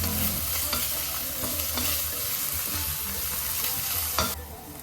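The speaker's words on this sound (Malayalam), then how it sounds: "കുറച്ച് ഇഞ്ചി പേസ്റ്റും കുറച്ച് വെളുത്തുള്ളിയുടെ പേസ്റ്റും കൂടെ ആഡ് ചെയ്ത് കൊടുത്തിട്ടുണ്ട് കേട്ടോ എന്നിട്ട് നല്ലപോലെ പച്ചമണം മാറുന്ന വരെ വരെ ഒന്ന് വഴറ്റിയെടുക്കുന്നുണ്ട്" Onions sautéing with salt, ginger paste and garlic paste give a loud, continuous frying sizzle up close, with scattered scrapes of stirring and no voices.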